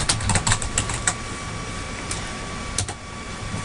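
Close, crisp keystrokes on a computer keyboard come in quick clusters, then slow to a few scattered taps over a faint steady hum.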